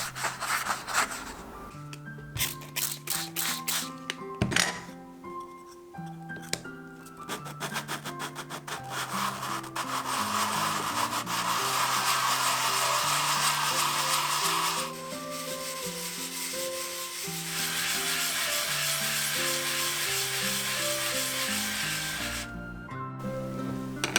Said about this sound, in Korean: 사포로 바닥을 다듬어 줄게요